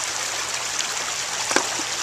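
A stream of water flowing and trickling steadily outdoors, a continuous hiss-like rush with small splashes, alone without talk.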